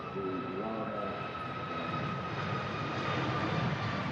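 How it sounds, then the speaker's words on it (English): A Ryanair airliner rotates on takeoff with its jet engines producing a steady, loud, broad roar with a faint high whine, continuous and unchanging, heard from a distance. "Nice smooth rotation there from the Ryanair."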